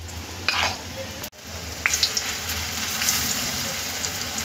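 Vadas frying in hot oil in a kadhai, a steady close sizzle and crackle throughout with a brief cut near the start and small bursts of spatter.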